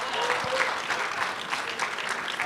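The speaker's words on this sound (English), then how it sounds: "Can golfers give me a round of applause real quick?" A golf audience at a major championship breaks into steady, dense applause, heard close and continuous with no talk over it.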